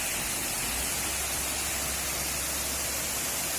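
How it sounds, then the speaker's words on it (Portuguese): Broad, steady rush of falling water at a waterfall in Tamandaré, where a spout was built for bathing and dark forest-stained river water flows away; continuous and fairly close, with no voices. "E aqui é a cachoeira."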